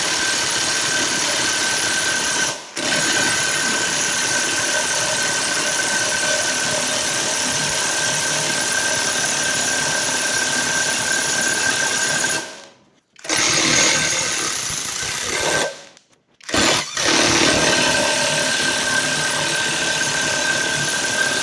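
A Snap-on 18V cordless power tool runs loud and steady at close range, its motor whine holding for long stretches with a few brief cutoffs and restarts, set against a vise-clamped workpiece.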